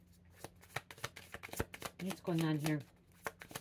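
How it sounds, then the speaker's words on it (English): Tarot cards being shuffled, a run of quick riffling snaps and soft papery clicks, close and moderately loud, with a person speaking over part of it. "Let's shuffle again."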